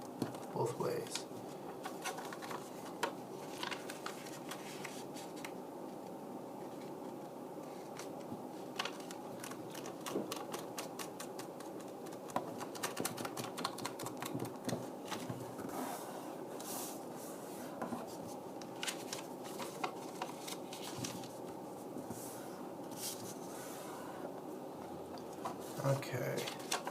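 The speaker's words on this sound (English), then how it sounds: "We're going to fold it diagonally in half, both ways, and then horizontally in half, both ways" Square origami paper is creased diagonally and horizontally in half: soft, continuous rustling, rubbing and crisp little crinkles close by, at a low, steady level throughout.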